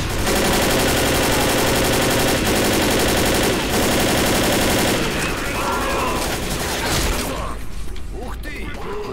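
Dense, continuous gunfire from the game Left 4 Dead, with rapid automatic bursts and booms, loud throughout, easing toward the end; voices talk faintly underneath.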